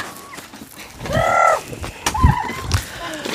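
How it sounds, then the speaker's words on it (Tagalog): Turkeys on a viewdeck make a couple of loud, nasal gobbling calls, one near the middle and another shortly after, over background chatter and ambient noise. "Maraming pabo."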